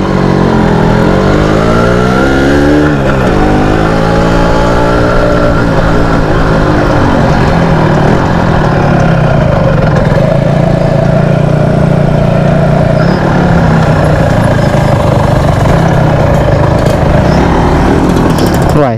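Yamaha RZR two-stroke motorcycle on a test ride, its loud buzzing engine revving up and down close by, with a sharp rise in pitch early on and then a steady raspy drone, with some talk underneath.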